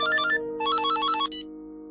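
A mobile phone rings with an incoming call, a bright electronic melody of quick repeating notes over a steady tone, loud and close, with no talking.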